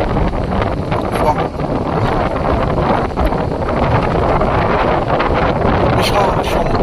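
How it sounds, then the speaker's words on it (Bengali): Rough sea waves break onto a jetty at Havelock Island in strong, gusty wind, a dense, continuous roar of surf and wind buffeting the microphone, loud and unbroken throughout. "কোনো কোনো ঢেউ জেটির উপরে এসে আশ্রে পড়ছে"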